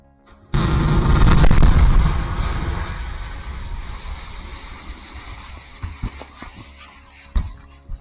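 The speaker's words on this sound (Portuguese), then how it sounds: "Vamos ouvir de novo essa explosão." A huge explosion of the SpaceX Starship SN11 rocket erupts in a sudden deep blast, roaring and rumbling for several seconds, followed by scattered thuds and crackles as debris falls.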